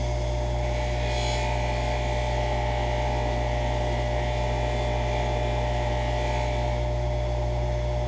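A bench buffer polishing garden tools with white compound drones with a steady, loud motor hum throughout, unbroken and without speech.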